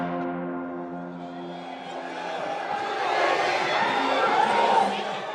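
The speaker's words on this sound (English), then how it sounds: "A crowd gathers at the Special Prosecutor's Office in Seoul for the arrival of South Korea's former First Lady, Kimyonghee." A crowd gathered outside the Special Prosecutor's Office in Seoul awaiting the arrival of South Korea's former First Lady, a steady murmur of many voices swelling slightly louder toward the end.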